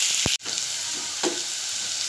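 Onions fry in a pan, a steady bright sizzle heard up close, broken early by a sharp knock and a brief cutout, then a soft stirring scrape, with no speech.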